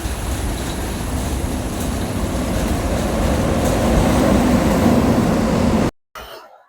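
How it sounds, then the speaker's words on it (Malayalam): A train rumbles steadily past at a railway station in Kerala, its low broadband roar holding for about six seconds before cutting off abruptly. "ഒരു ട്രെയിൻ വരുന്നുണ്ട്."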